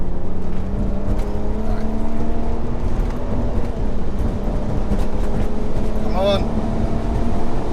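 A 370bhp BMW 335D diesel accelerates hard at full throttle, its engine drone climbing steadily in pitch, loud and close from inside the cabin, with a brief whoosh near the end and someone speaking a few words over it.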